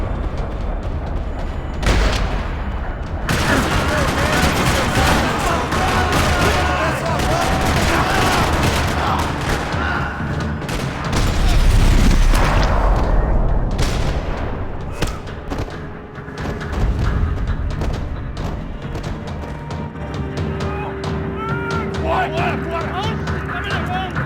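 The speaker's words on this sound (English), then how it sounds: "Another parking lot rattling with gunfire." Rapid bursts of gunfire and heavy thuds fill a parking lot firefight in the video game Max Payne 3, loud and continuous with booming impacts, while a voice speaks over the shooting.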